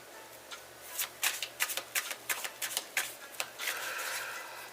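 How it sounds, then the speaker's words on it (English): A deck of tarot cards is riffled and shuffled by hand, a rapid run of about a dozen sharp, close snapping flicks that ends in a soft rustling slide, alone over a faint low hum. "we're going to do 3 shuffles"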